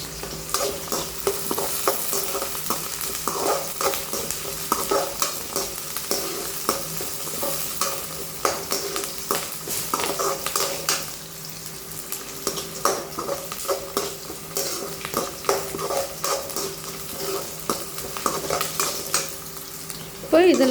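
Sliced onions and chopped green chilli sauté in a pan for poha upma, a spoon scraping and stirring in irregular strokes over a steady close sizzle, with no voices.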